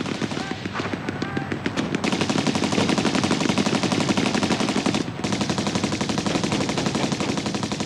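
Sustained rapid machine-gun fire rattles continuously at close range, dense and loud, aimed at paratroopers dropping from the sky, with a brief lull before it resumes.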